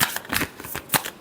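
A deck of tarot cards getting a brief final shuffle, with a few soft, close papery riffles and slaps over about a second and no voice.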